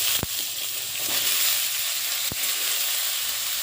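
Vegetables for a Bengali chorchori hit hot oil tempered with asafoetida, giving a steady, close, loud sizzle and hiss that lasts throughout, broken by two brief sharp pops or clatters.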